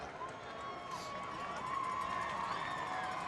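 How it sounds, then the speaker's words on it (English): Home fans of Arlington Martin roar at a high school football game at AT&T Stadium, a broad, steady crowd noise heard from a booth above, swelling slightly with scattered shouts and whistles. "the Martin crowd getting fired up underneath us here in the network booth at AT&T Stadium"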